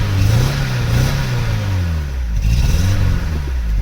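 A Vauxhall Cavalier engine revs under throttle with a misfire, a loud steady drone that rises and wavers unevenly, heard close and alone.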